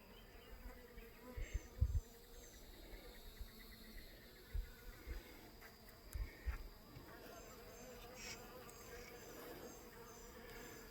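Honey bees buzzing around an opened beehive during an inspection, a constant faint swarm drone with occasional closer buzzing passes, punctuated by soft knocks and handling thumps of hive frames.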